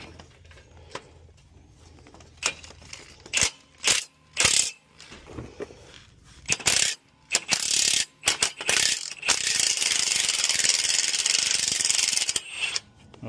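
Ratchet with a 15 mm swivel socket breaking loose and backing out a starter bolt on a 2014 Chevy Impala LT V6: bursts of sharp clicking, then a long steady run of rapid ratcheting, close and loud with no talk.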